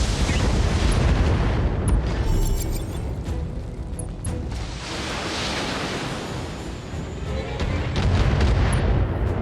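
In the BattleTech video game, mech weapons fire in heavy booming, rumbling blasts that swell and ebb as a dense, continuous barrage, loud and close with no talk over them.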